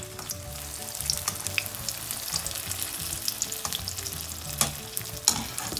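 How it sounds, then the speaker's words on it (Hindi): Lentil dumplings (bhallay) frying a second time in hot oil, a steady close sizzle with bubbling and occasional sharp pops. "यहाँ पे मैंने जो बड़े बने हुए थे उनको उठाया और इनको अगेन फ्राई करूँगी"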